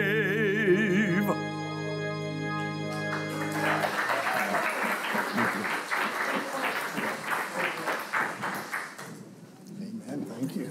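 Congregation applause following the national anthem at a church service, clapping rising after a sustained musical chord, rhythmic and fairly loud, then thinning out and fading near the end.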